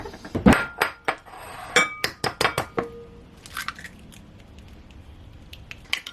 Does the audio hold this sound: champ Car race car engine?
no